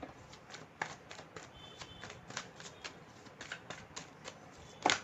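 Tarot cards being shuffled by hand, a quiet, close series of rapid riffling flicks and soft slaps in an irregular rhythm, with no talking.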